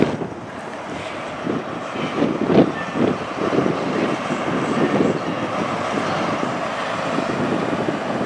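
A train pulls away with a low rumble and a few rising engine surges, heard against gusty wind buffeting the microphone.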